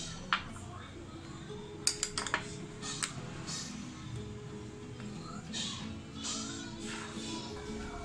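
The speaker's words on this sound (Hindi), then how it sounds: "दोनों को मिला करके मैं अच्छी तरह से मिलाऊँगी दही और चीनी को" A spoon scraping and clinking against a bowl while yogurt and sugar are mixed for banana raita, a few sharp metallic taps in a quick cluster among soft stirring, faint and close.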